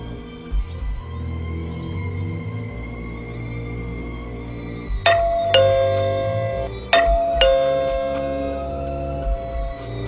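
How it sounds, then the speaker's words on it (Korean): A front-door doorbell rings out loud and clear as two quick ding-dong chimes close together, heard over a quiet, low, droning background. "초인종을 눌렸다."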